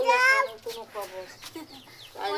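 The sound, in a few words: chickens clucking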